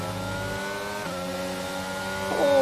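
F1 race cars in the F1 22 video game whine at high revs, engine tones shifting through gear changes, with a sharp rise in pitch and loudness near the end as a car accelerates close by.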